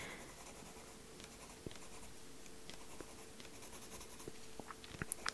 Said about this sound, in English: now I'm just going to add this yellow pencil in some areas here and there